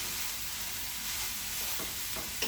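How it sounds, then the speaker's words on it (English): Ground meat sears in a pan for taco salad, giving a steady, close sizzle with a few soft stirring scrapes near the end. "The meat is actually done, but we're just getting a little bit of a sear on it"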